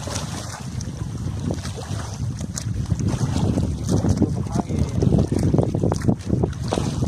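Strong wind buffets the microphone with steady low rumble and gusts, alongside engine-like boat noise and lapping water, continuous throughout.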